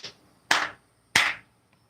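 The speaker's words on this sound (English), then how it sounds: "if you clap 3 times" Three sharp hand claps spaced roughly half a second apart, each crisp and close with a quick decay, the first slightly softer than the other two, with a faint tick after.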